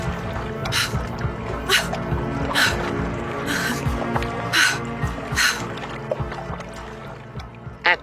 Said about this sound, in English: At that point, Jerry, we rowed back to the shore.